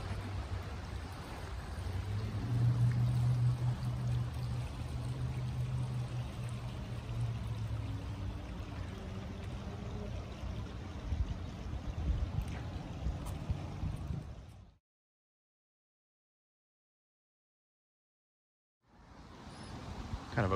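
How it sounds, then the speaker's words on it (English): Creek water running through a sculpture park in Roseville, California, a steady, close rushing wash with low gurgling, broken by a few seconds of total silence before resuming. "Just hear the water running."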